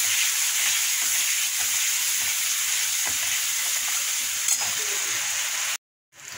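Loud, continuous sizzling of paste frying in a hot pan, with occasional stirring, cutting off abruptly just before the end.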